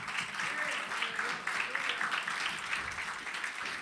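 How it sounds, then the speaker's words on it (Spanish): Applause from a church congregation, a dense steady patter of clapping that carries on throughout at moderate loudness, with faint voices mixed in beneath it. "Un aplauso a Cristo por eso."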